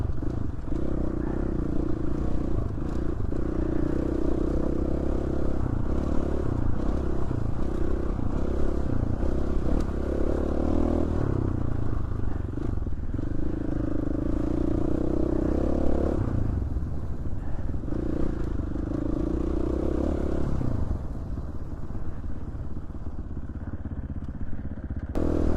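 An off-road motorcycle rides snowy Idaho desert trails, its engine droning loud and close throughout with shifting revs, a brief dip partway through and faint clatter from the terrain.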